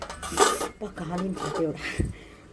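A lid is set on a cooking pot of tomato dal with a couple of clanking metal knocks and scrapes, while a voice talks over them.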